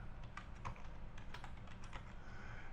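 Quick, faint clicking of typing on a computer keyboard, a steady run of light key taps over a low, quiet background hum.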